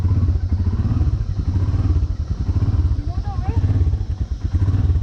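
A Royal Enfield Himalayan BS4 motorcycle riding off, its single-cylinder engine thumping loudly and steadily up close, with a voice speaking briefly over it.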